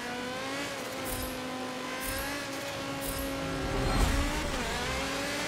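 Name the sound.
Audi TT RS race car engine in video game Forza Motorsport 7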